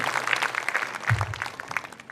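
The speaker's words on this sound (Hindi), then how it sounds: "एक बार जरा जोरदार तालियां बजाइए" Dense, steady applause from an audience at a Rajasthani hasya kavi comedy poetry event for the poet Keshav Dev Marwadi, carrying on through the whole short stretch with a brief low voice-like murmur near the middle.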